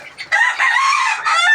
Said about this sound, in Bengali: আরও দিবে ডিম, কক কক করতেছে, আরও দিবে।